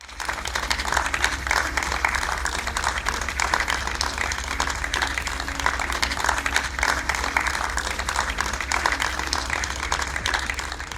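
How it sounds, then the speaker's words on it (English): Sustained applause from dignitaries and faculty at the GD Goenka University convocation ceremony, an even, continuous roar of many hands clapping in a large hall over a low hum. "A round of applause from dignitaries and faculty members of GD"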